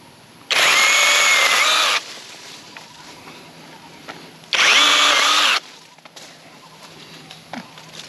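A power saw whines in two short bursts of cutting durian tree branches, each lasting about a second, with quiet outdoor background between them.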